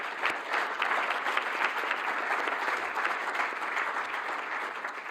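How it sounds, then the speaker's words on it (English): An audience at an EOSC symposium applauds the panelists, with even, continuous clapping from a crowd that holds at a steady level for several seconds. "a big applause for the panelists"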